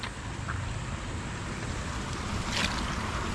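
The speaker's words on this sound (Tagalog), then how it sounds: "Lakas ng ulan." Heavy rain pours down during flooding beside a freshly dug drainage canal, a dense, steady hiss close by that grows slightly louder toward the end, with no voices.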